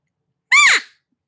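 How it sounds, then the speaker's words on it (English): Elk cow chirp blown on an open reed cow call: a single short, bright call that rises and then slides down in pitch. It is close and loud against silence. "a chirp"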